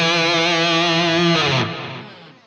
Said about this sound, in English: We've also got the Mod Echo Chorus.